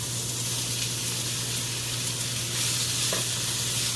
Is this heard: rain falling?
no